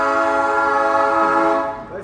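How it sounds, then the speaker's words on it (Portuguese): A Brazilian train in Piraquara sounds a long, steady whistle, loud and sustained for nearly two seconds before cutting off abruptly. "esse apito do trem, né, o apito do trem também é uma tradição nossa"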